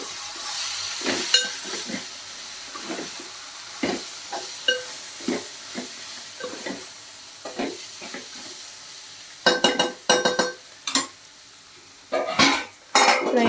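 Cluster bean curry being mixed with garam masala in a pan, spoon scraping and clinking against the pan in irregular knocks over a low sizzle, with a busier burst of scraping near the end.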